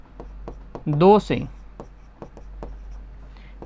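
A pen scratches out an equation on paper or a board during a Class 10 maths lesson on linear equations, short strokes ticking close by as a voice talks over them.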